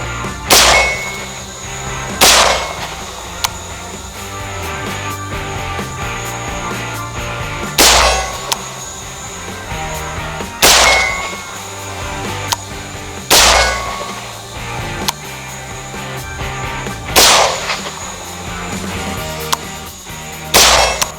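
Repeated .308 rifle shots fired at a substandard steel target, sharp loud cracks spaced a few seconds apart, some with a metallic ring, over steady outdoor background noise.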